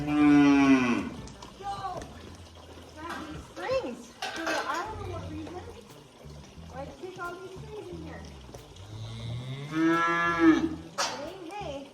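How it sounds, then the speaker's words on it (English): Hungry heifers moo and bawl repeatedly for grain on a freezing winter farm, long drawn-out calls rising and falling close by, with a person talking between the moos and some faint clatter. "every time they see you, they just cry and cry and cry because they want some grain."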